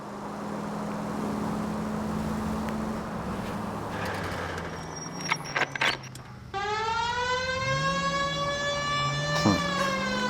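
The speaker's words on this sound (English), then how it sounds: "I got the sirens on." A police car siren wails in the video game L.A. Noire, rising and falling in loud sweeps after a stretch of steady engine and road noise, with brief clicks and knocks in between.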